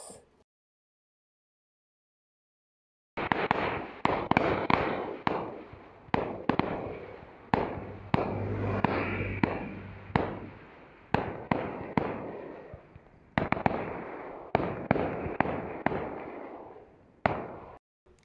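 After a few seconds of silence, a long string of firecrackers bursts loudly and close by at a village club's music show, sharp bangs popping in quick, irregular succession.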